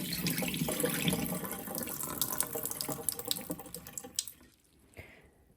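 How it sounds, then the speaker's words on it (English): Water is poured out of a pot of washed rice into a kitchen sink, a close splashing, trickling stream that tapers off into a few drips and then quiet. "Tip the water out."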